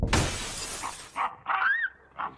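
Skylight Velux window glass shattering in an audio drama, one loud sudden crash with bright spraying fragments fading out, followed by a few short tinkling bits of falling glass.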